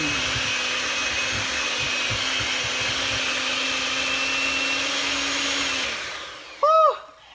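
An electric mixer churns cream into herbal butter with a loud, steady motor whine that runs evenly, then winds down and stops, followed by a brief chirping tone.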